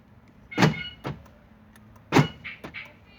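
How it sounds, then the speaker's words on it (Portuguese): Central locking on a 2002 Chevrolet Corsa with a noisy electric lock actuator locks and then unlocks, giving two close pairs of mechanical clunks with a brief whirr. The sound is near and clear with no talk. "A trava e a destrava do carro."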